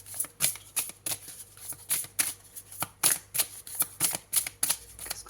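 Oracle cards shuffled by hand, a steady series of sharp papery slaps and flicks at a fairly even rhythm, close up, with no voices.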